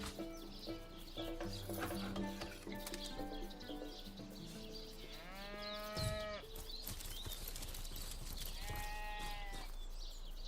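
Sheep bleat in the video game Divinity: Original Sin Enhanced Edition on PS4, with two drawn-out wavering calls rising over a busy, steady bed of game music and ambience.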